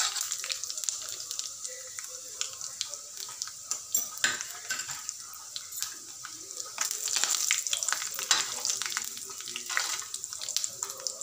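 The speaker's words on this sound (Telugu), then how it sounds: "1 స్పూన్ ఆయిల్ పోసి పోపు దినుసులు జీలకర్ర, ఆవాలు, మినపప్పు, పచ్చెనగపప్పు అన్నీ వేసి కొంచెం ఫ్రై చేసుకోవాలి." Cumin, mustard seeds and lentils frying in a spoonful of oil as a tempering, with soft sizzling, scattered pops and spoon-stirring clicks against the pan throughout.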